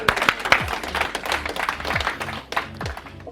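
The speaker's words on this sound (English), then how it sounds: "Round of applause for Devinder." Scattered clapping from a small workshop audience as a volunteer is called up, loose and uneven, with voices and movement mixed in.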